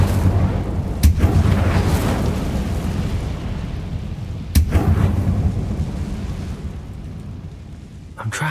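An Incendio fire spell in Hogwarts Legacy sets off sharp cracks and booming bursts over a steady low roar, with about three hits spaced several seconds apart.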